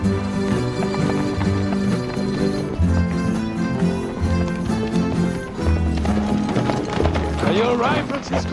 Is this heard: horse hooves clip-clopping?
yes